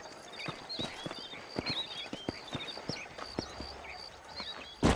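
Horse hooves clip-clop at a steady walking rhythm in the Red Dead Redemption video game, close and clear, with faint occasional snorting and no talk.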